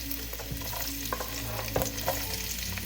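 Garlic and onions frying in oil for a batchoy soup base, a steady close sizzle with scattered stirring scrapes and small pops running throughout.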